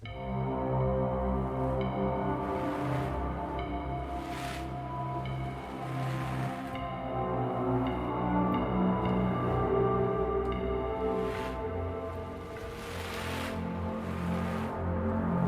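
A soft, sustained synthesizer pad, the Heavyocity Mosaic Pads preset Grandfather Clock, holds layered tones with a slightly grainy texture, playing alone and evenly throughout.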